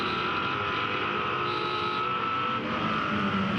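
A touring car engine is held on throttle through Griffin's Bend at Bathurst. It makes a steady, loud, droning roar with no pause, heard close up as if from onboard the car.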